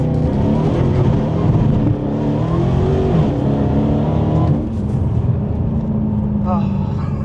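An 800 BHP twin-turbo Mercedes C63 S saloon accelerating hard, a loud continuous engine roar rising in pitch through the gears with a brief dip at a shift, heard from close by over steady road noise.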